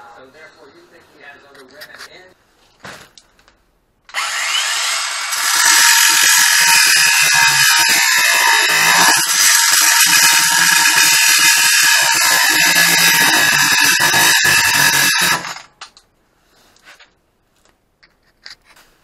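A power tool cuts square steel tubing for a mini bike frame, a loud, steady, high-pitched grinding whine that runs for about eleven seconds before stopping, with quieter talk and handling noise before and after.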